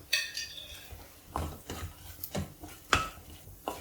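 A utensil stirs a coriander and homemade garam masala spice mixture in a cooking pan for egg curry, giving a series of close, irregular metallic scrapes and knocks with quiet gaps between them, with no voices.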